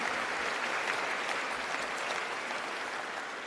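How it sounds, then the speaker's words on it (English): A crowd applauds steadily, a dense wash of clapping that holds level and tapers slightly at the end. "Round of applause."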